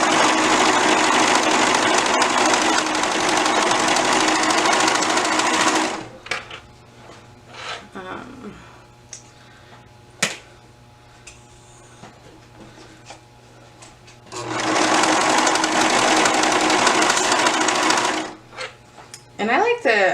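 A sewing machine runs a stretch zigzag stitch on garment fabric in two steady, loud bursts of rapid stitching separated by a quieter pause with handling noises and brief talk.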